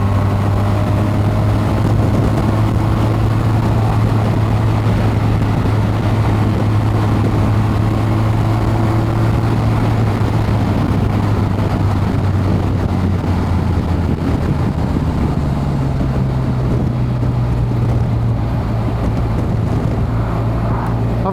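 A motorbike carrying a passenger and a top box rides at steady speed, its engine drone continuous and buffeted by heavy wind noise across the microphone, with a slight pitch rise near the end.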